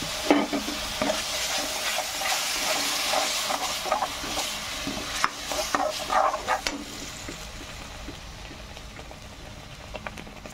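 Onions fry in a pan toward dark brown with a steady, close sizzle and repeated scraping, clattering stirs that ease off toward the end.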